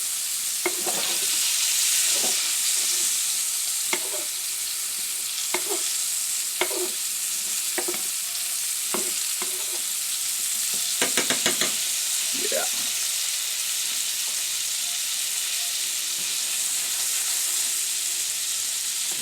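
Halibut frying in lemon brown butter with rosemary and capers, basted by spoon: a steady bright sizzle runs throughout, broken by repeated clinks and scrapes of the spoon against the pan, close and fairly loud with no talk.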